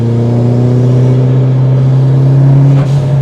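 A Mitsubishi Lancer Evolution 7 accelerates hard, its engine droning loud and close with a steady, rising tone, then a brief shift-like dip near the end before pulling on.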